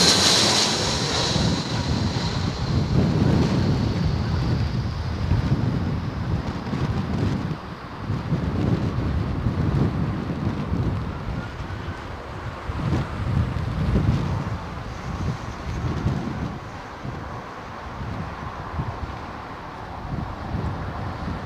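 An airliner lands in strong crosswinds at London Heathrow, a loud, sustained engine roar mixed with gusty wind buffeting the microphone, rising and falling for the whole stretch with no talking.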